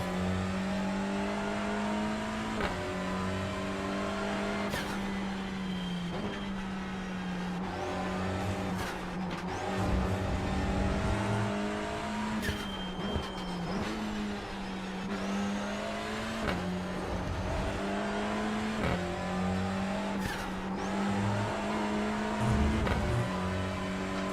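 A race car in the iRacing simulator drives hot laps, its engine droning steadily and rising and falling as it shifts gears and revs through corners, with brief tire squeals and no talk over it.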